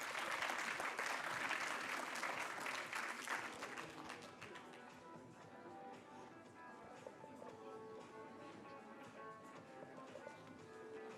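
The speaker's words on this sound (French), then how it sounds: "l'équipe Velco qu'on va accueillir avec des chaleureux applaudissements" Warm applause welcoming team Velco at the CityLab 2016 project presentations, a dense crowd clapping loudly for about four seconds and then thinning into scattered claps under a murmur of voices.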